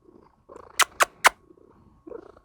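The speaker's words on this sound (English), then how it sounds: "Yeah, you're just purring." A pet cat purrs softly right up close, a low rumble broken by three sharp, loud clicks in the middle.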